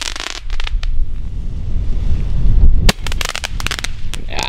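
Large Polish firework rockets going off outdoors, with sharp cracks and rapid crackling bursts over a rumbling background, followed by a loud bang and more fast crackling.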